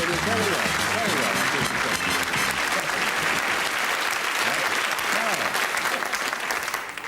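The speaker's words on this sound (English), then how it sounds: "Thank you for your applause," Studio audience applauding on a 1978 television game show, a steady dense roar of clapping that fills the room loudly from start to finish, with a host's voice faintly under it early on.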